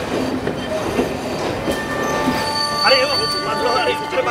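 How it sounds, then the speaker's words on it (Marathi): A train pulls away from a railway station, a rumbling roll of wheels with high metallic squeals and whistling tones, while voices on the platform are heard underneath. "तुमची ट्रेन जात आहे."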